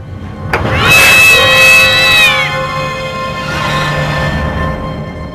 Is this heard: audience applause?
no